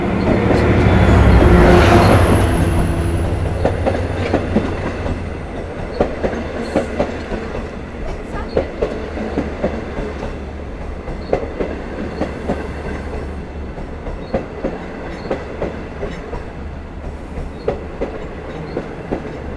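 Long Island Rail Road train 16, the Cannonball, made up of Kawasaki C3 bi-level passenger cars, passes Westhampton station. A loud horn and engine roar come first, followed by a long, steady clickety-clack of wheels over rail joints.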